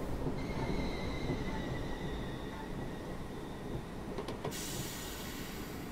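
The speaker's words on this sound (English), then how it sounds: "Put some brakes on now, start slowing down." A Great Northern Class 313 electric train in Train Sim World 2021 grinding along with a high, thin brake squeal over a heavy rumble of wheels, the squeal holding steady before a sharp shift in tone near the end.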